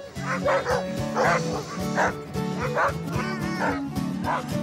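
A pack of sled dogs barks and yelps excitedly in a steady chorus of overlapping calls, in the Jura, France, with music playing underneath.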